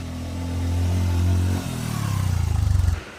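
A motorcycle engine drones and revs during a ride on a winding hill road, a loud close rumble that dips briefly, then builds again with rhythmic pulsing as it accelerates.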